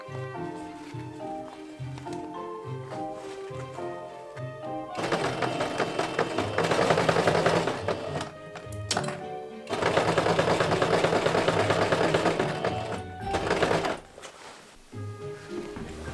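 A sewing machine stitches a collar onto a leather jacket, its fast mechanical whirring coming in two long loud runs with brief pauses, over quieter background music at the start and end.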